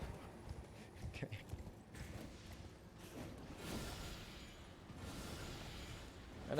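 Horse hooves clip-clopping as a rider gallops through an area in the video game Elden Ring, quiet rhythmic thuds mixed with whooshes and game sounds while a player talks over them.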